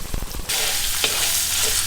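Pork fat renders into lard in a wok with a loud, steady sizzle that fills the whole clip. A brief burst of knocking at the start is followed by one faint scrape of stirring.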